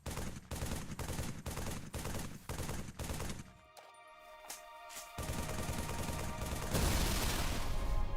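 Gunfire from a modded Banshee flying vehicle in the video game Halo 3, with a rapid repeating volley of loud shots, then a brief lull with scattered impacts, and then a dense, sustained roar of fire.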